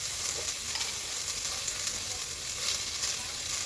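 Vegetables sizzle steadily in a hot pan, a constant close frying hiss with faint crackle throughout and no talk.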